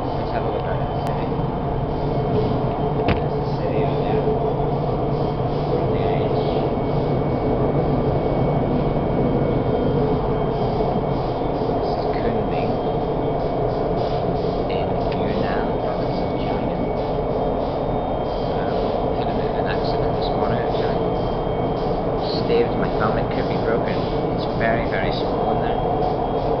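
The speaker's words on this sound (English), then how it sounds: "just on the Kunming transport system, the Kunming metro" Ride aboard a Kunming metro train in Yunnan, China: a loud, steady interior rumble and hum of the moving carriage with air-conditioning hiss, constant throughout with faint rattles.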